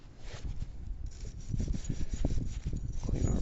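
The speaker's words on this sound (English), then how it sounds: "Clean our brake hardware off here." Brake hardware on a vehicle is cleaned by hand with a close, coarse rubbing and scrubbing sound in quick irregular strokes, growing a little louder toward the end.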